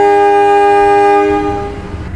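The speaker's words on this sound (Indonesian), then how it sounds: "Oke, saat ini kereta api Pasundan berangkat stasiun Kroya." The Pasundan passenger train sounds a loud, sustained horn blast at Kroya station as it departs, the tone cutting off into rumbling rail noise.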